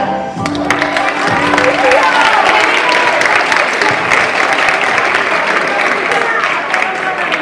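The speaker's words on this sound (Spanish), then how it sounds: "Aplaudiment al grup." An audience applauds a group at a rhapsody recital, with dense, sustained clapping that builds quickly and then holds steady, while some voices murmur faintly underneath.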